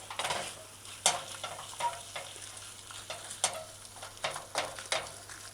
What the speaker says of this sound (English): You just stir it in.